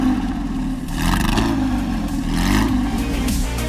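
A Porsche engine revs hard and close, its harmonic note rising and falling in a couple of surges with a steady low growl underneath, loud and continuous with no voices.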